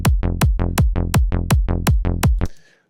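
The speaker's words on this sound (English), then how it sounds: "The offbeat bass simply is adjacent to the kick." A punchy, distorted hard dance offbeat bass note pulses in a fast, even rhythm, about eight hits, loud and driving, then cuts off into a brief fading tail.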